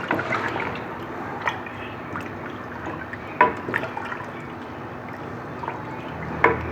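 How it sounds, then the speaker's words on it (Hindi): One litre of water poured into a cooker pot, a steady close trickling and splashing with a few louder clinks and sloshes, moderately loud, no voices. "ये 1 लीटर पानी डाला मैंने इसके अंदर।"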